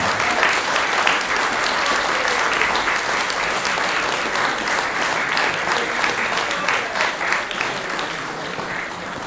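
A crowd applauds at an award ceremony during a medical software users' convention in Poland, a long, dense, steady wash of clapping that holds at an even level, with no voice rising above it.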